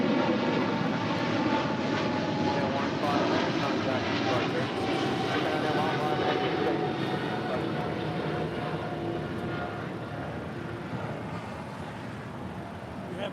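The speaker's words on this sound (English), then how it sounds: "It's a 777-300ER about to take off here" A Japan Airlines Boeing 777-300ER jet spools up for takeoff at an airport, a loud, broad, continuous engine roar that holds steady and eases slightly toward the end, with people talking faintly beneath it.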